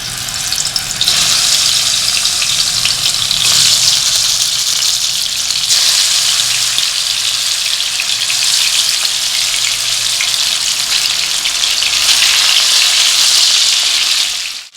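Pieces of rohu fish fry in hot oil, giving a loud, continuous close sizzle that swells in a few bursts and runs without any talking.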